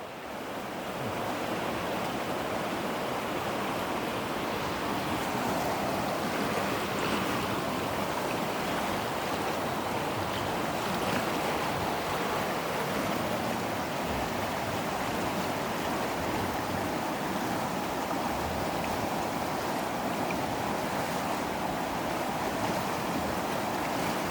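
The Mackenzie River rushes past in a steady, broad wash of flowing water, loud and continuous from start to finish with a faint wind rumble and no talking.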